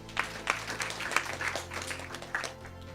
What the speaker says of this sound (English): Round applause.